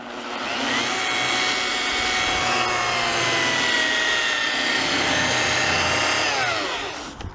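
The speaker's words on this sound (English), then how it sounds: "the weight of the grinder is enough to hold that down" A grinder scuffs paint off the body of a 1999 Chevy Tahoe, a steady, continuous whirring abrasion held at an even level for about seven seconds with no talking.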